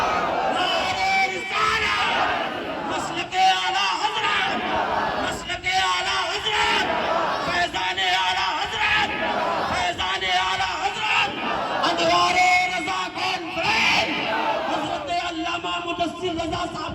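A crowd at a religious gathering chants slogans back to a leader, with loud, repeated bursts of massed voices rising and falling in a steady call-and-response rhythm across the whole stretch.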